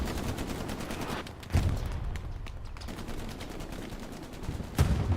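Rifle and machine-gun fire in a competitive World War II match of Hell Let Loose at Carentan, steady crackling volleys with a few heavier nearby shots punctuating the continuous firing.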